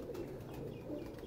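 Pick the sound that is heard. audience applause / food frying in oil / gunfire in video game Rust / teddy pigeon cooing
teddy pigeon cooing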